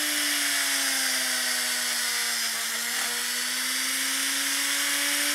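A rotary tool with a burr bit drills through a hollow polymer clay doll head, a steady high electric whine that dips slightly in pitch under load and recovers, close and continuous.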